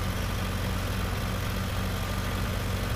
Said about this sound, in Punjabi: ਹੁਣ ਇੱਥੇ ਟਰੈਕਟਰ ਦਾ ਫੁੱਲ ਜ਼ੋਰ ਲੱਗਾ ਵਾ